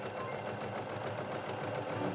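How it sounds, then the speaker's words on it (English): A sewing machine runs steadily, its fast even needle rhythm close and continuous with no talk over it. "I'm 12 and I can sew."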